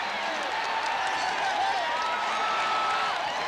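A stadium crowd at a Kansas City Chiefs versus LA Raiders football game cheers and applauds in a continuous, loud, even roar that holds steady throughout.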